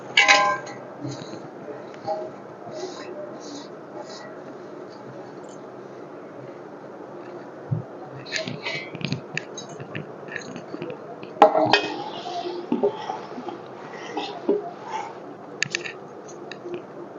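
Cut mango pieces for Andhra-style avakaya pickle are mixed by hand in a vessel, giving soft squishing and clinking bursts with quieter pauses between, close by and with no talk.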